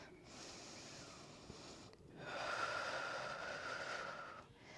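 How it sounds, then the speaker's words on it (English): Slow, deep breaths during a yoga flow: a long, airy inhale, a brief pause, then a fuller, steadier exhale, close and soft, with no talking. "We're going to breathe here for 3 full breaths."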